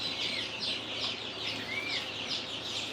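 Baby chicks in an indoor chicken room peep constantly in a dense, high-pitched chorus of overlapping cheeps, close and continuous, with no talking.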